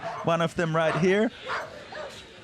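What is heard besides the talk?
dogs barking in the background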